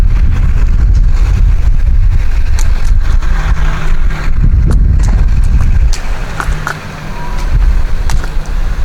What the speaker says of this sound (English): That crackling noise you hear is all the acorns on the ground here.